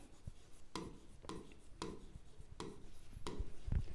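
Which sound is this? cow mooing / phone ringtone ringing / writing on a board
writing on a board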